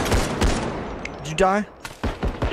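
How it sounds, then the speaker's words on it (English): Gunfire from a realistic multiplayer shooter game, several sharp loud shots and bursts, with people talking over and between the shots. "Me and my team were both shooting at you"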